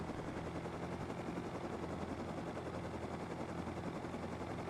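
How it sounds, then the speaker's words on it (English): Helicopter from the video game Rust in flight, a steady dense broadband rotor-and-engine roar holding at constant loudness throughout, with no voices. "You can get really good at flying the helicopter with the mouse and keyboard, but it definitely takes time"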